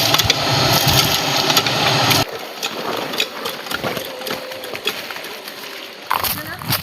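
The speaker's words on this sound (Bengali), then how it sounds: "মোটর চালানো কমপ্লিট।" An electric motor, likely a water pump, runs with a steady mechanical whir, loud for the first two seconds, then dropping to a lower hum under background noise.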